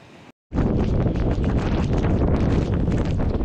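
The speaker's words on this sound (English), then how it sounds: "Very strong winds, whipping the snow up, whipping the spray." Strong wind roaring into the microphone during a Buffalo snow squall by the waterfront, with waves and spray. It comes as a loud, steady rushing buffet after a brief dropout, and no one speaks.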